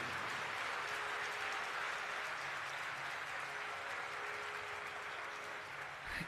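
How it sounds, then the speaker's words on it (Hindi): A large audience at a Hindu religious discourse gives loud, steady applause that fills the hall without a break for several seconds, dense and even throughout. "एक बार जोरदार ताली बजाइए"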